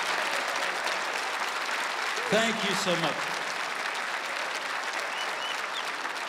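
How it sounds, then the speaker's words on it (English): A church congregation claps steadily at a celebration of life service, broad continuous applause filling the room while a man briefly thanks them partway through. "Give the Lord a good clap when you do that"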